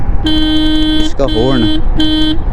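A TVS iQube electric scooter horn honks three times, the middle blast wavering and uneven, loud and close over a constant background hum.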